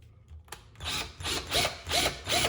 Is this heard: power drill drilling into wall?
yes